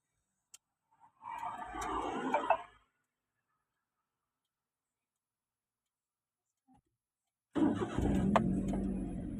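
A car engine cranks and catches in a short burst, falls silent, then starts again and keeps running nearby.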